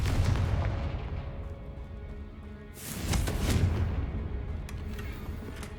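Fire-spell explosions in the game Hogwarts Legacy: two heavy booming blasts, the second near the middle, each followed by a rumbling roar that fades.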